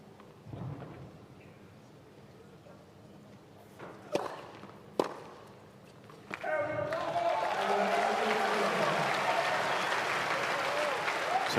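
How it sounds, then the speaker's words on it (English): Fireworks popping outside a tennis stadium during a United Cup 2024 match, a few sharp cracks over a hushed arena, then a sustained swell of crowd applause. "It's the fireworks that are going on that we're hearing, the popping sound."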